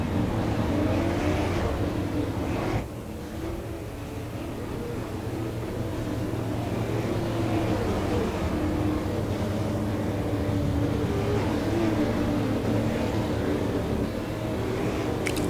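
A race car engine drones steadily on the track at Myrtle Beach during a NASRA race, a continuous loud rumble with no clear passes or pauses.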